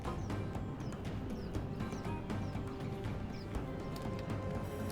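Massed horse hooves of mounted horse archers in a video game battle, a continuous, quiet rolling clatter of many hooves with scattered sharper hits.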